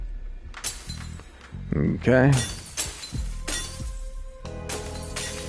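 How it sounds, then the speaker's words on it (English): Mirrors shatter in the horror game Pathologic, several sharp crashes of breaking glass with tinkling shards, spread across a few seconds, with a voice briefly speaking between them. "so we broke a bunch of mirrors"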